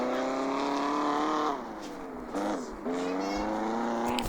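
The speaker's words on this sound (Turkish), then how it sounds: "Vay babam ya nasıl drift çekiyor" Modified Tofaş Şahin drifting in a driving game, a droning engine note that rises and dips with throttle changes, steady and fairly loud throughout.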